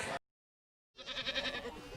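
Goats at a goat rental business in Cheney, kept to clear flammable brush, bleat in a rough overlapping chorus after a brief cut. The bleating is moderately loud and continuous.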